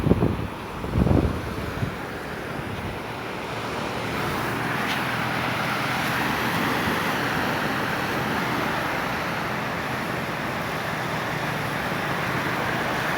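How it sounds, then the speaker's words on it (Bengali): Small sea waves at low tide wash steadily onto the shore in a soft, continuous hiss under light wind, fairly faint and distant, with a couple of brief bumps at the start. "পানির ঢেউ এখন ছোট ছোট"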